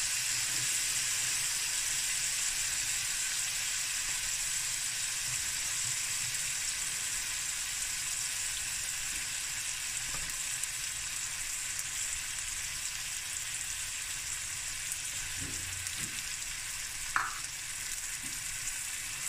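Leftover rice frying in a pan with braai sauce, a steady close hiss and sizzle with a few faint clinks of stirring.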